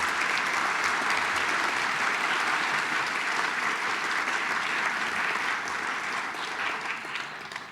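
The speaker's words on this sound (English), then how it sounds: "If we could have a round of applause for all of these individuals." Sustained applause from a holiday symphony and song concert audience fills the hall, loud and dense at first and slowly thinning toward the end.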